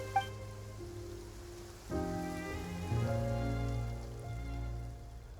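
Rain falling in the Genshin Impact game world of Fontaine, a soft continuous patter on surfaces under sustained musical tones, fairly quiet and steady with no speech.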